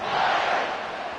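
Roar of a home crowd cheering at a Cal versus Texas college football game, a broad steady wash of voices from a packed stadium that swells briefly and then eases.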